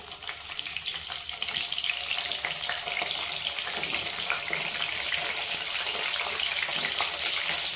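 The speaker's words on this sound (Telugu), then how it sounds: "ఆయిల్ కాస్త వేడెక్కిన తర్వాత వంకాయలన్నీ కూడా వేసుకోవాలి ఇందులోకి" Brinjals (eggplants) fry in hot oil, giving a dense, steady sizzle and crackle, loud and close throughout with no voices.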